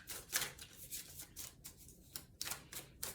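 A Medicine Woman Tarot deck is shuffled by hand, making a soft, continuous papery riffling with repeated bursts of card flutter, fairly faint and close by, with no speech.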